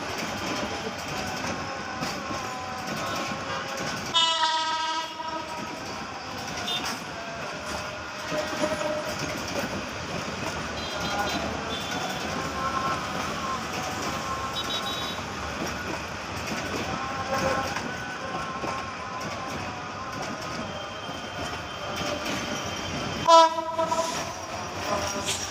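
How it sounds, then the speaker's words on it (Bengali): A mail local train rolls past with a steady, loud rumble of wheels and carriages, while its horn blasts twice, once early and once near the end. "এটা হচ্ছে মেল লোকাল ট্রেন।"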